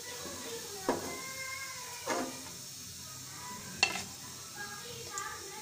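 Potato koftas frying in hot oil in a kadai, a soft steady sizzle broken by a few short louder bursts as pieces go in.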